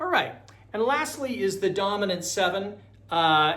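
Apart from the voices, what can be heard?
None of the usual background noises is heard.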